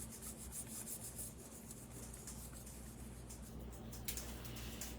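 Faint, continuous soft rubbing is heard close up as a score line on a Christmas card is worked out, a low scratchy friction with no talking.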